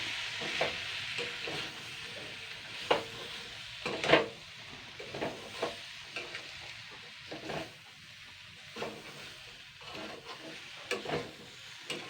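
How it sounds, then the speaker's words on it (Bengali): Gram flour (besan) stirred into a pumpkin and papaya curry in a pan gives a soft, low sizzle with scattered scraping and tapping of a spoon against the pan, quiet and close with no voices. "এরপরে আমি আবারও দুই দুই মিনিট মতন হালকা নাড়াচাড়া করে নেবো যেহেতু কাঁচা বেসনগুলো রয়েছে"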